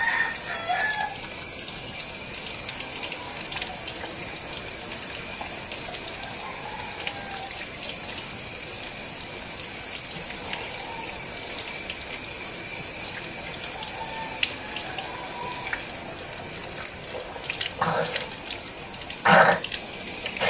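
Tap water runs steadily for a face wash with plain water and no soap, a continuous hiss with a few brief splashes and spatters near the end, no talking.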